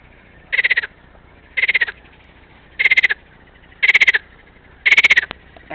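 A frog in Ukraine croaks in five loud, evenly spaced bursts, each a short rattling trill of quick pulses, with quiet gaps and no talking between calls.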